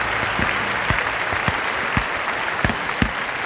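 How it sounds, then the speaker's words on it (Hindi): Audience applause at an award ceremony as a presenter comes on stage, dense continuous clapping from a crowd with a few sharper close claps standing out. "आप सबकी भरपूर तालियों के साथ।"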